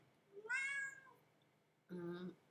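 A house cat meowing twice, two distinct, close meows separated by a short pause in an otherwise quiet room.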